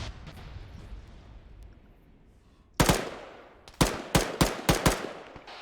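Rifle fire in ArmA 3 rings out as a loud single shot followed after a pause by a quick string of five sharp, close reports over quiet outdoor ambience.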